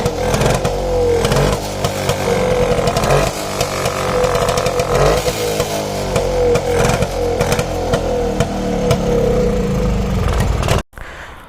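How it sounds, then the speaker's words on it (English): A restored Rajdoot Bobby two-stroke mini motorcycle runs loud and close, its exhaust buzzing with repeated revs and throttle blips, then cuts off abruptly near the end. "Let's listen to the exhaust note of this mini scooter or mini motorcycle."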